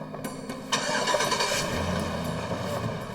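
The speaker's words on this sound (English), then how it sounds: "Finally, the pickup roared to life and the men took off." A hotwired pickup truck engine cranks and catches, then roars into a steady, loud running rumble that holds close by with no one talking.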